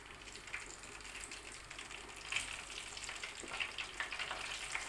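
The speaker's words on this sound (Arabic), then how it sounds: "هحط البتنجان بتاعي برضو يتقلي" Eggplant frying in hot oil in a pan, with a soft, steady sizzle and occasional small pops and crackles in a home kitchen.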